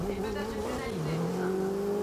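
A race car in the GRID racing game engine drones loudly and steadily as it loses control, the engine pitch dropping and then climbing again, with tire noise mixed in and speech blended underneath.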